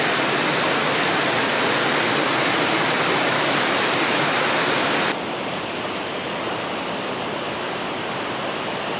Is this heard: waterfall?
yes